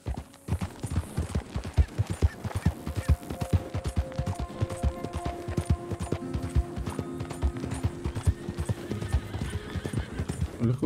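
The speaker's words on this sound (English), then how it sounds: "Look at all these horses." Horses in Red Dead Redemption 2 make dense, continuous clip-clopping hoofbeats, close and busy, with occasional neighs and a low tonal hum in the background.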